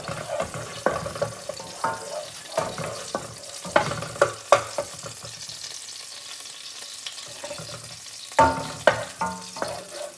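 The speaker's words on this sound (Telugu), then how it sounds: "దీంట్లో గార్లిక్ వేసుకుంటున్నాను. ఈ గార్లిక్ కొంచెం రెడ్గా ఫ్రై చేసేసుకొని" Garlic frying in about two tablespoons of oil in a pan for homemade chilli chicken, a close sizzle punctuated by uneven scrapes and knocks of a spatula, no talk.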